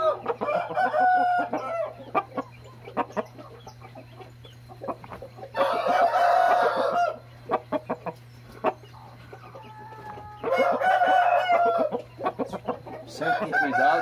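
A rooster crows loudly twice, long drawn-out calls separated by several seconds, with clucking and scattered short calls between them.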